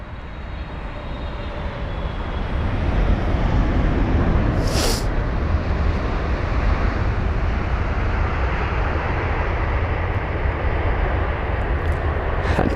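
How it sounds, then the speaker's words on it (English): A British Airways Boeing 777-300ER landing at London Heathrow, with loud broadband jet roar that swells and holds steady, a brief sharp burst near the middle as the main gear touches down. "Just so much tire smoke from the touchdown of the main gear."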